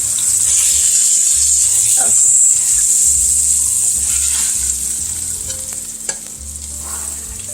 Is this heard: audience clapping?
no